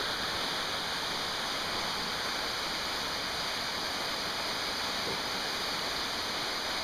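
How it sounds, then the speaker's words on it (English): Steady, dense rushing of a brook flowing over rocks past thin ice, a constant broadband wash at even loudness throughout with no voices. "Here's Dan trying to get himself across the brook."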